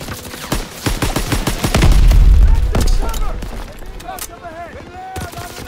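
Battle gunfire in the World War II shooter Call of Duty: WWII, with rapid loud rifle and machine-gun shots, then a deep booming blast, and shouted voices with further scattered shots trailing after.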